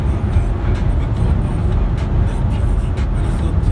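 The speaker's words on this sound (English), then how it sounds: "nice to take a video of all the trucks" Heavy motorway traffic of trucks and cars rolls past in a steady, loud low rumble, with several brief whooshes of individual vehicles going by close at hand.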